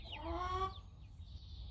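A Cochin chick gives a short, fairly loud run of clucking peeps that fades by the end, with no voices over it.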